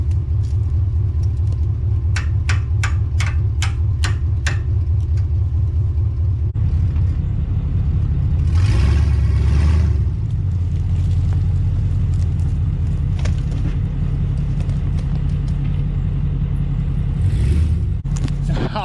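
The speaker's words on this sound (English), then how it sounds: "I'm sure you might have heard it sitting up here idling, but we got the F450 up here" A Ford F450 truck idles close by with a loud, steady low rumble that never lets up. Some sharp clicking sounds early on, and a few louder surges rise partway through.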